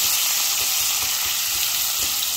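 Sliced onion sizzles and fries steadily in a pan with a bay leaf, a continuous close hiss with faint stirring scrapes and no talk.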